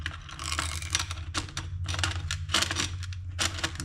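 Metal washer and nut slid and threaded onto a bolt while installing a battery tie-down in a Mazda RX-7, a run of close clinking and ratcheting metallic clicks in irregular rhythm.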